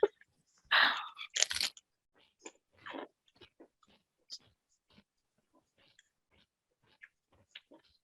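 Takoyaki-flavored Pringles chips crunch loudly in a few close bites, followed by quieter, sparse chewing clicks and smacks near the mouth, with no talking.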